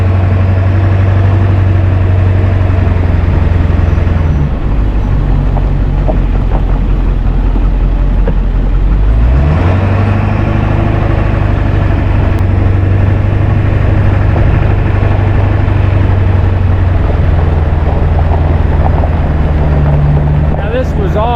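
Steady low engine drone of a car driving a winding road through a wildfire-burned forest at Schneider Springs, constant and close, with someone talking over it.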